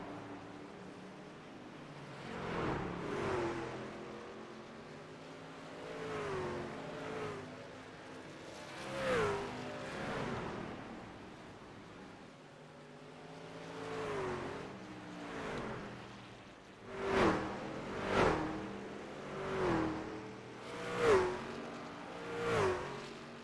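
Racing trucks at Richmond track in a sim-racing video game, engines swelling and fading as they pass in repeated waves, with several sharp louder passes near the end and no voices.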